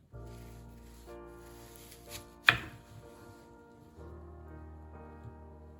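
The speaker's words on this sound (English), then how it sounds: "So I'm going to cut this in half real quick." A knife cuts an onion in half on a cutting board, with one sharp chop standing out over quiet background music.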